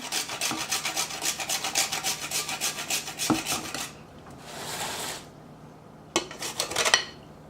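Whole nutmeg grated on a rasp, a fast run of rhythmic scraping strokes, close and fairly loud, then a pause and a second short burst of rasping.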